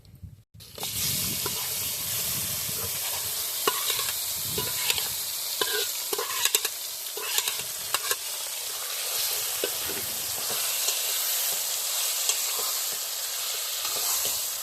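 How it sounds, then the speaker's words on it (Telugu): Ground ivy gourd chutney is added to a hot, sizzling tempering with asafoetida and stirred, producing a loud, steady sizzle throughout with scattered stirring clicks close to the mic and no speech. "ఇప్పుడు మనం ముందుగా నూరు పెట్టుకున్న పచ్చడిని తాలింపులో వేసుకుందాం"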